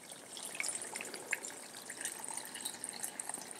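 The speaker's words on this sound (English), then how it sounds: "Fill it with water." Tap water running into a pot in a home kitchen, a light continuous splashing and trickle with small droplet accents, fairly quiet and close, no talking.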